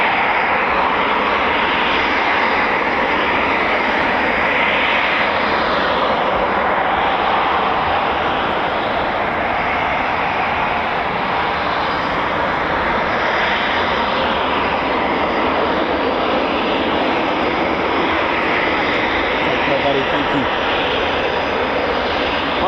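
Eurofighter Typhoon FGR4 jets starting up at RAF Coningsby make a loud, continuous engine roar and whine that holds steady at moderate distance for the whole stretch, with no talk heard.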